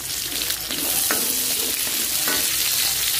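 Ginger sizzles and fries steadily in a hot pan for a coconut-milk fish stew, with two brief stirring scrapes against the pan partway through.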